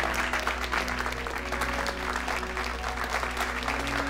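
An audience claps in a broad, continuous wash of many hands, fairly soft and steady, with a low hum sitting beneath it.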